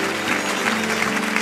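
Church congregation applauding steadily, a dense continuous wash of clapping that holds at an even level throughout with no voices breaking through.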